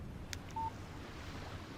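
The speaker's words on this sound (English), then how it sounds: "Text message from Barry." A short phone notification tone for an incoming text message in the video game Alan Wake Remastered chimes once, quiet and brief, over soft windy ambience.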